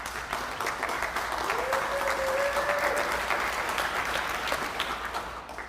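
Audience applause at a mayor's State of the City address in Portland, a steady, dense wash of many hands clapping throughout, with a brief tonal sound drifting through the middle and the clapping tapering slightly at the end.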